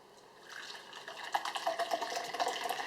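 Coffee pouring from a camp coffee press into a cup, a soft liquid stream that rises and turns more splashy and gurgling as the cup fills, close and quiet.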